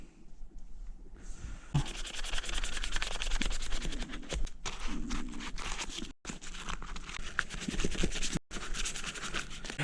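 Honda CRF450R motorcycle parts are sanded before hydrodipping, with steady, close rasping and scratching strokes that continue for several seconds with brief pauses.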